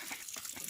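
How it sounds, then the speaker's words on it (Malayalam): Water poured from a vessel over a small child's face, a steady close splashing gush that runs without pause and without talk. "കുഞ്ഞിന്റെ മുഖമെല്ലാം വെള്ളം ഒഴിച്ച് പോയി"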